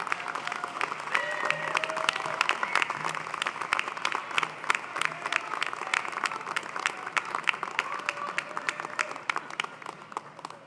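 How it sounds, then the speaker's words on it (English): Graduates at a June 2018 convocation ceremony applaud their loved ones in a large hall, a steady wash of many hands clapping that continues evenly throughout. "give them a round of applause as a sign of gratitude for all they have done for you"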